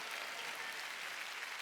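A church congregation claps during a Sunday worship service, a short burst of steady, even applause from many hands, heard faintly and without talk over it.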